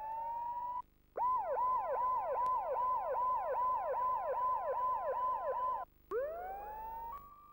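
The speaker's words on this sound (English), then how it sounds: "must have heard the sirens too" Police sirens in the video game Max Payne 2 wail in a fast, regular, near yelp pattern, pausing briefly twice before switching to a rising tone, loud and clear with no talk over them.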